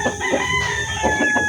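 A rooster crows nearby, a loud drawn-out call with some clucking and farmyard noise around it.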